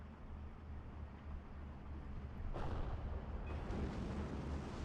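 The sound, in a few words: tank blowing up a Bren carrier in video game Steel Division 2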